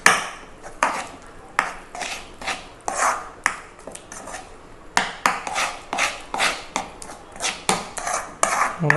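Wheat flour and a cup of water are whisked together in a bowl for halwa, a brisk run of close, rhythmic scraping and clinking strokes against the vessel, each stroke sharp and evenly paced, with no talking.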